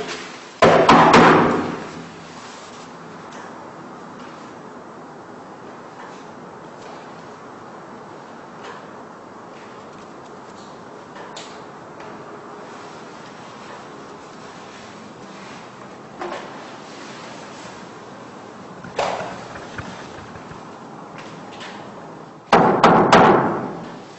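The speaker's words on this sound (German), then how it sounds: "Also machen wir Klopftest." Knocks on the walls of a house during a paranormal knock test: a few loud bursts of thuds and bangs separated by long quiet stretches, with a couple of fainter single knocks in between.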